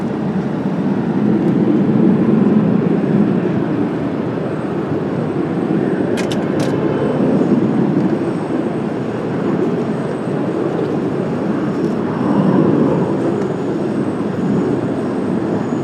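A jet airliner rolls for takeoff on runway 19 left at Washington Dulles airport on a cloudy day, a broad, steady engine roar that holds loud throughout with slight swells, no talk over it.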